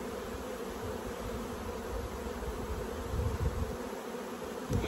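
Steady close hum of honey bees swarming over opened hive frames of brood and drone cells, a thick continuous buzz that swells slightly near the end.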